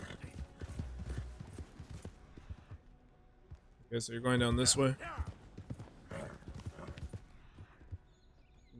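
Hooves of a Morgan horse clip-clop steadily at a walk in Red Dead Redemption 2, with a loud whinny partway through, while someone talks over the hoofbeats.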